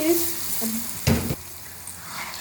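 Stuffed ladyfingers with green chillies are stirred briskly in a pan, a soft scrape and a brief louder burst of movement over a low sizzle, with no talk.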